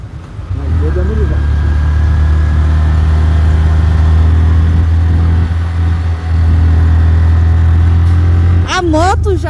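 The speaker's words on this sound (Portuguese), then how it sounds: "A moto já está sentindo um pouco a altitude. Baixou bastante a velocidade." A motorcycle engine loses power while climbing toward the Atacama Desert at about 4,170 metres altitude. A loud, steady, close-up drone runs throughout with wind rush, ending in a brief rising tonal whine.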